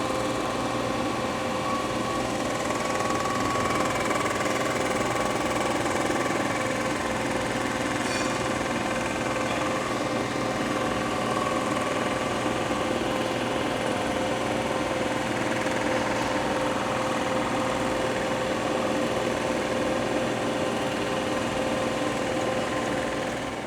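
A machining skim pass on a Porsche 997.1 3.6L engine gives a steady, continuous mechanical whine with a broad grinding hiss, holding an even level throughout with no voices.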